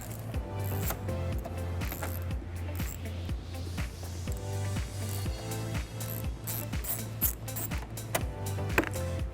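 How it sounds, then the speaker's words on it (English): An 8mm socket on a ratchet works screws loose during a trailer hitch install on a 2022 BMW X3, giving steady rapid clicking pulses in a regular rhythm, close and fairly loud throughout. "Now this exposes 2 screws that we're going to remove using an 8mm socket."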